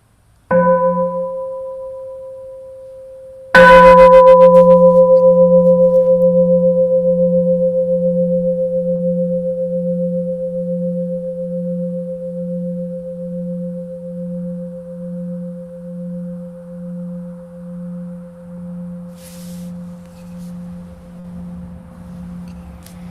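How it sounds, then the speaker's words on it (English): Two bell strikes during a Buddhist dharma talk, a soft one and then a loud one, each leaving a long, pure, slowly pulsing tone that fades gradually over about twenty seconds. "Let's enjoy a sound of the bell."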